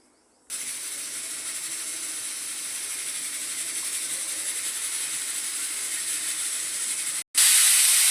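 A pressure cooker of dal lets out a long, steady, loud steam whistle lasting several seconds, which cuts off briefly and then returns sharper and louder at the end.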